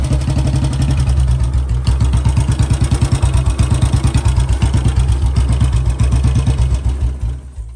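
A Bullet motorcycle engine runs steadily close by, its loud, even thumping beat continuing throughout before trailing off slightly at the end.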